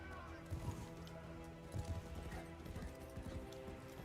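Horse hooves clip-clop in the Warframe video game, a few brief bursts of hoof beats rising over a steady droning game soundscape with music.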